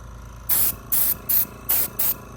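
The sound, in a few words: spray paint on gun upper screws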